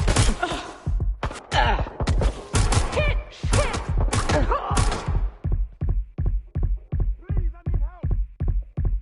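Gunfire in Watch Dogs Legion starts as dense, overlapping bursts, then settles into a steady run of evenly spaced, loud thudding shots.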